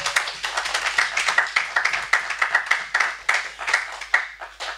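An audience applauds with rhythmic, fairly close hand clapping that continues steadily throughout, with no voices over it.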